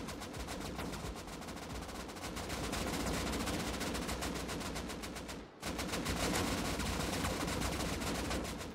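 Sustained rapid rifle gunfire from a video game, dense and loud throughout, with a brief dropout midway before the firing resumes.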